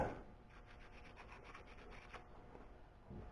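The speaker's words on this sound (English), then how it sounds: "Just rubbing it with a little emery to get some of a little bit of surface rust starting off of it." An emery cloth rubs surface rust off a steel end mill in short, steady back-and-forth scrubbing strokes, close and quiet, with no talking.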